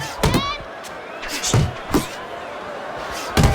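Punches landing in the boxing video game Fight Night Champion, with Lennox Lewis boxing, a few sharp thuds spaced irregularly, heard over crowd murmur and a commentator's voice.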